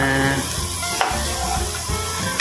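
Ingredients sautéing in a hot pan for crispy kare-kare, a steady loud sizzle with occasional scraping stir clinks, continuous and close throughout.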